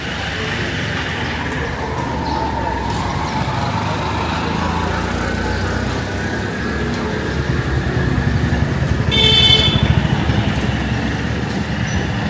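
Busy street traffic near Mayer Ghat in Bagbazar, Kolkata: a constant roar of passing trucks, buses and cars, with a short high horn blast near the end rising above the rumble.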